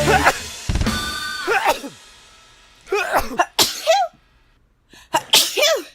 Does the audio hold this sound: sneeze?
yes